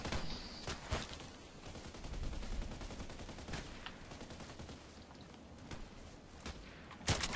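KelTec RFB rifle fire in the shooter game Contract Wars: scattered rapid shots and short bursts crack out at moderate distance over a low background rumble, ending in a sharper close report.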